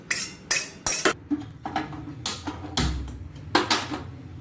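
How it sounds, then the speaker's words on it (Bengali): A wok (kadai) being washed at a kitchen sink: sharp metallic knocks and scrapes arrive in irregular bursts, close and fairly loud, with some watery rubbing between them and no speech. "কড়াটা একটু ধুয়ে নেবো ভালো করে"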